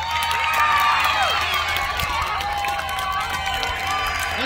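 A crowd at a fun run cheers and shouts for team A, a loud, sustained mix of whoops, yells and children's voices with some scattered clapping.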